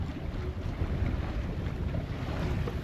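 Sailboat under way with its mainsail raised, wind steady across the microphone and water rushing along the hull, a continuous broadband roar with no talk.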